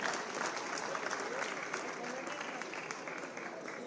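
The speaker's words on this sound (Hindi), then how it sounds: "जयदीप पांचाल पुरस्कृत होते हुए आप सभी की तालियां बजती रहनी चाहिए इन यूथ आइकन्स के लिए।" A large crowd claps continuously and evenly, a dense, sustained round of applause filling the whole stretch.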